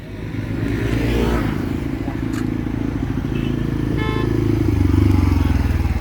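A motorcycle carries riders along a road at a steady, loud drone with a rough, rumbling engine note and wind buffeting. A faint high clink comes through once or twice, and no one speaks.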